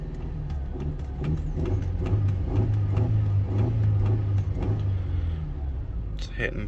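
A Mercedes SLK with a lean fuel trim fault idles and then rises in revs as throttle is raised, a low rumbling engine note climbing and settling, heard close while someone talks over it.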